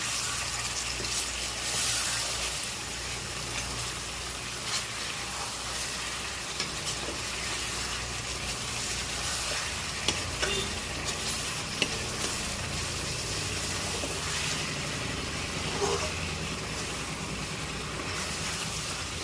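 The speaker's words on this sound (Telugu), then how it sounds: "సో అలా పెట్టేసి ఒక 2 మినిట్స్కి తిప్పుతూ ఉందాము" Chicken fry crackles and sizzles loudly in a pan as it is stirred, a steady dense hiss with scattered scrapes and clinks throughout, no voices.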